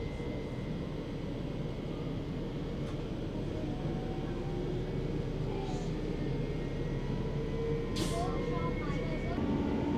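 Steady electric whir of a suburban train running, with broad low rumble throughout and a faint rising tone as it accelerates.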